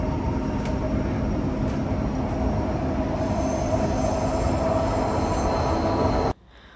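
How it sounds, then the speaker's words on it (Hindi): Passenger train in Dubai rolling smoothly, a steady loud rumble of wheels and carriage noise with faint hum throughout, cutting off abruptly near the end; no talking. "बड़ी ही स्मूथ और बहुत ही ज़बरदस्त इनकी ट्रेन, बहुत ही साफ़ सुथरी"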